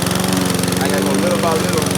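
A Powersmart lawn mower engine runs steadily and loud up close, a continuous droning roar with a throbbing rhythm, while a person talks over it.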